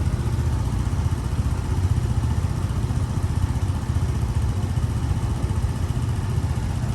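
A motorcycle engine runs steadily during a test ride inside a basement garage in Taiwan, a loud, close, continuous rumble with no voices.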